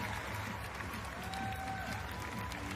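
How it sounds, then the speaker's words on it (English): Crowd applause at the WNBA Draft as a pick is announced, a dense steady clapping from a large audience filling the whole moment, with faint cheering mixed in. "Kim Mulkey applauding as Anessah celebrates"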